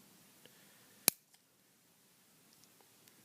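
One sharp snip of small cutters trimming the leg of an LED on a key fob torch, a single crisp click close up against a quiet room, with a few faint handling taps around it.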